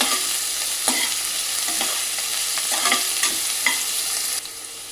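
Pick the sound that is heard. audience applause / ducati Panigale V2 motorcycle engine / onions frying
onions frying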